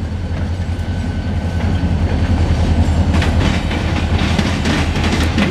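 A CSX westbound local freight train reversing through Marion, Ohio, its cars rolling past close by with a loud, continuous rumble and steady clickety-clack of wheels over rail joints.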